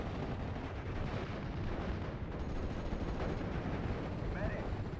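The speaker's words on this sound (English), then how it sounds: "Get the mortars firing." Dense, continuous battlefield din from the WWII strategy game Steel Division: Normandy 44, with mortar and artillery fire blending into a steady roar of gunfire and rumbling blasts rather than distinct single shots.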